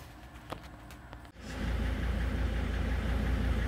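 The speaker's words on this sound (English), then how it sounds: "So you can hear a van running." A Sprinter van engine turns over and then runs at a steady, rumbling idle, heard close after a few soft handling taps in an otherwise quiet space.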